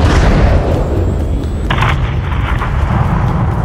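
A gunship strike levels a hangar in Call of Duty Modern Warfare III, a loud sustained booming rumble of explosions that rolls continuously with a fresh burst partway through, heavy low end throughout and no voices.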